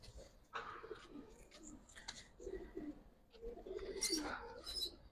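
Pigeons cooing in soft, low, repeated calls close by, with a few brighter chirps mixed in and faint background noise.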